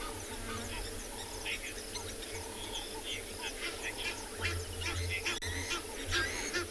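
Rapid, harsh Egyptian goose honks chatter back and forth at a distance on safari at sunrise, layered over constant insect hum and other faint bird calls.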